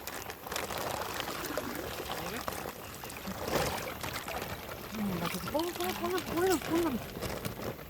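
Water poured out of a container while fish are released into a farm pond, a steady splashing gush heard close, with voices talking over it.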